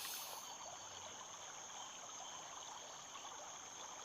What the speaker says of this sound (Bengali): দূরে রেলি নদীর পাহাড়ি ঝর্ণার মতন বয়ে যাওয়া শব্দ